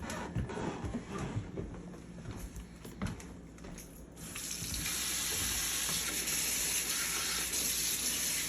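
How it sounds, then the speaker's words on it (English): Hot water running from a tap over a fridge part during a recharge repair, a steady hiss and splash that swells into a louder, constant gush after a few seconds. "run this under hot water"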